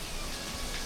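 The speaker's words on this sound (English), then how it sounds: "It's raining," Rain falls in a steady, dense hiss, close and even, with no other sounds over the brief moment.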